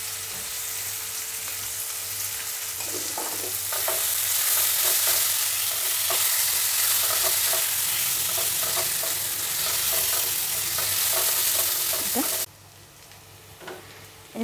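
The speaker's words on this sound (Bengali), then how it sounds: "এবারে আলুগুলো ভাজা হয়ে গেছে" Potatoes seasoned with turmeric and salt fry in a pan while a spatula scrapes and stirs them in repeated strokes over a loud, close sizzle that suddenly drops away near the end.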